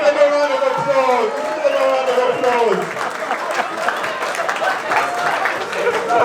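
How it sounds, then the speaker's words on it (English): A crowd of couples at a marriage retreat in a Southampton hotel gives a round of applause. The clapping is moderate and continuous and mixes with lively talking and crowd noise throughout. "Let's give them a round of applause."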